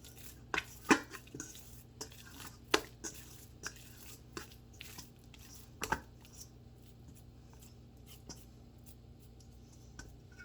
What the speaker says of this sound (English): Just sprinkle it around and keep folding.